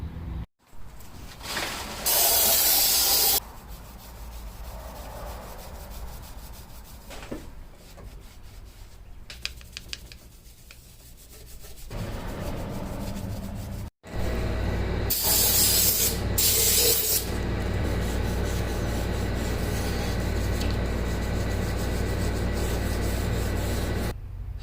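Steel wool (grade 00) scrubbing a cylinder head from a 1275 engine for a 1963 Austin Healey Sprite, close and loud, with sustained harsh rubbing strokes, a brief pause midway, then more vigorous continuous rubbing.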